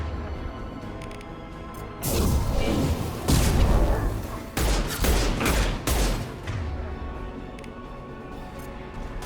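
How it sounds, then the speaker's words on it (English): Heavy gunfire in Mass Effect 2, a cluster of loud, sharp blasts and bursts in the middle of a firefight, set against quieter background combat noise. "Firing a high-impact shot"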